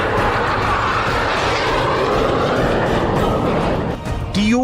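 Tu-160 nuclear bomber flying, a loud broadband jet roar that holds steady throughout, then a rising whine near the end.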